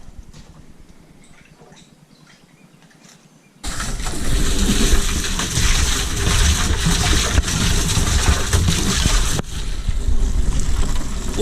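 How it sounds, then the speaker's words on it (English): Water rushes through an herbicide sprayer tank being flushed clean on a sunflower farm, quiet low rumbling first, then a sudden loud, steady roar of flowing water and machinery that continues to the end. "Flushing this tank out one more time just to make sure there's no herbicide residue."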